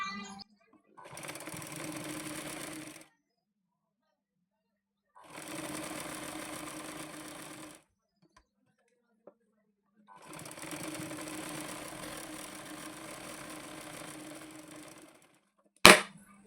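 A sewing machine stitches a blouse in three bursts of rapid, steady whirring, separated by quiet pauses, ending with a sharp click.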